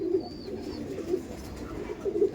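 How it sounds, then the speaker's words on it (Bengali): Racer pigeons at a Kolkata pigeon farm coo in soft, low, repeated murmurs close by, with a faint chirp in the background. "দেখুন এটা হচ্ছে নর পায়রা, আর এটা হচ্ছে মাদি পায়রা"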